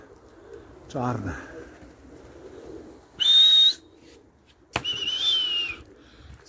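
Pigeons in a loft give short coos and whistle-like calls in two bursts, with a sharp knock between them, while someone talks nearby.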